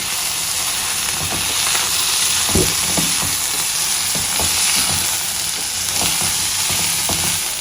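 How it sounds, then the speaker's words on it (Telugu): Green chillies fry in a hot pan for Maharashtrian thecha, a continuous bright sizzle and hiss with occasional soft scrapes and stirring knocks beneath it. "ఫ్రై చేస్తున్నాం కదా"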